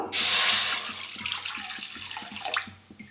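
Water is poured into a wok on a gas stove in a sudden close rush that tapers into a softer trickle and splash over about three seconds.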